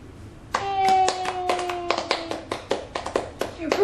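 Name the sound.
hands clapping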